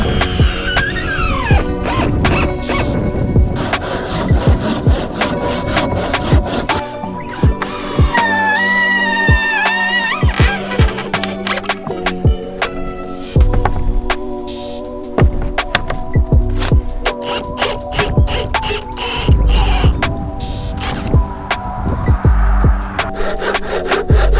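Handsaw cutting through timber for a backyard dirt jump ramp, loud close strokes in a steady back-and-forth rhythm running throughout with scraping and knocks, no talking.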